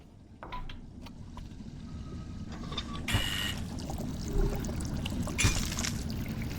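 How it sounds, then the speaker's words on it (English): An escape pod draining water in the VR video game Expect You to Die: a steady rushing, pouring gush that builds gradually, with brighter splashing surges rising and falling over several seconds. "Escape pod drained."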